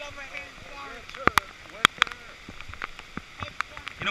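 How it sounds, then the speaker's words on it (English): Rain falls during a rafting trip on a river, heard as a steady patter with sharp water splashes and paddle knocks. People talk and exclaim throughout. "we're paddling through the rain"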